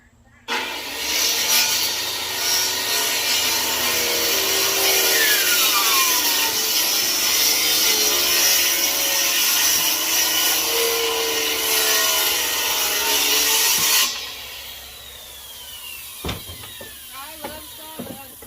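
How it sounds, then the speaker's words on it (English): A hand saw cuts through a wooden faux beam with steady, close rasping strokes for about thirteen seconds, then stops, followed by a few knocks and handling sounds. "We need one of them big ass beam saws for this."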